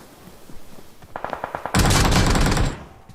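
Rapid bursts of PUBG Mobile gunfire: a quick string of sharp shots, then a dense, loud stretch of sustained automatic fire that cuts off abruptly.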